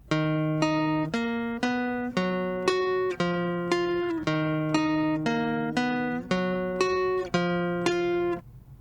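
Acoustic guitar plays a riff with both parts together, a bright, steady run of distinct plucked notes and chords repeating in a driving rhythm, close and clear, no voices.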